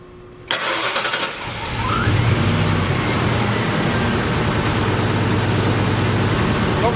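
A Duramax diesel truck cranks over and fires up after a plug wire repair, settling into a loud, steady idle that rumbles on without a break and with no voices over it.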